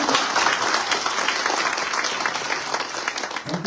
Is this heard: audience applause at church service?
yes